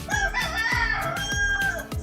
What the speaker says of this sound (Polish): Jeszcze kogut u góry.